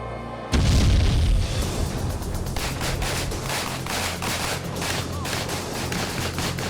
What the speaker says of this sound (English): a security company training private military contractors uses assault rifles and remote-controlled explosives in a live-fire drill